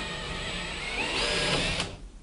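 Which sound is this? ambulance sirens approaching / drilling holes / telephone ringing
drilling holes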